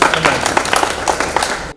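A brief burst of audience clapping at a local public meeting, a short crowd of hands applauding together for under two seconds before cutting off abruptly.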